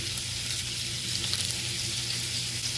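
String beans sauté in a hot pan for an adobong sitaw dish, giving a steady, dense sizzle and crackle of frying at close range with no pauses and no talking.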